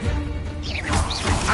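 A Confringo blasting spell cast in Hogwarts Legacy, a loud crashing burst with whooshing, swirling magic tones sweeping over a low rumble, filling the whole moment without a break.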